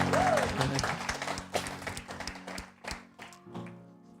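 Congregation applause at a church service, a dense rush of many hands clapping that gradually thins and fades, with scattered louder claps near the end and faint voices underneath.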